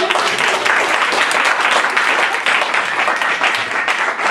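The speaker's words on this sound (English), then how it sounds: "let's give her a round of applause" After a lecture at a bookstore in Buffalo, New York, an audience claps in a dense, sustained round of applause that stays steady and fairly loud from start to finish.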